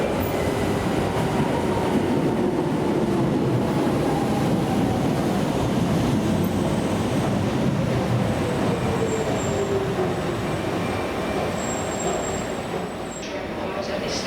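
A DLR train at the Custom House station platform: a loud, continuous rumble of wheels and running gear with faint squealing tones, easing off near the end, while a voice speaks over it.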